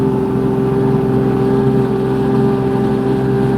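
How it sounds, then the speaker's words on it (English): A steady, loud Kubota LX2620 tractor engine drones with a constant low rumble, running evenly without changes in pace, while plowing snow. "the sound of the tractor motor is oddly relaxing."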